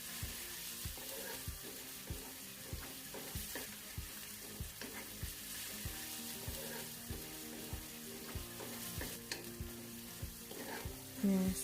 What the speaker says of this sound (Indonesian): Diaduk terus